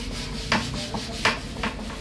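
Sandpaper rubs back and forth in quick, rhythmic strokes close by, a dry raspy scratching that swells with each pass, with no talking over it.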